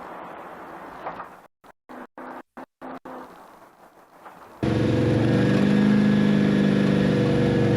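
A Ford Bronco race truck drives off-road across Baja desert terrain, its engine roaring loud and steady after a stretch of choppy, cut-up road noise.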